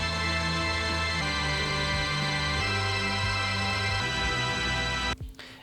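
Sustained saw-wave synth chords from a Serum M-Tron Saw patch, filtered and washed in reverb, change every second or so in a drum and bass progression before cutting out near the end.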